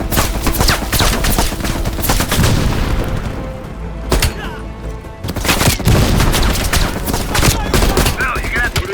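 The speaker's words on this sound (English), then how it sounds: "Mel, take out that MG." Sustained machine gun fire in the game Call of Duty Black Ops Cold War, dense loud bursts with booming explosions throughout, while game voices speak over the gunfire.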